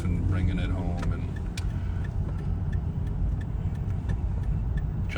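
A car drives home from LAX in Los Angeles, a steady low road rumble with faint ticking throughout as a voice talks over it.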